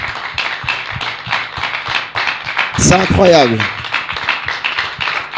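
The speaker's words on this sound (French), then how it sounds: "Vous avez raison d'applaudir." Audience clapping fills an acoustic concert room, a dense steady patter of many hands that runs throughout while someone speaks over it.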